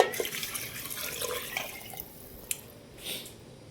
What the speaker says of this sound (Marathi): पाणी टाकून घ्यायचं.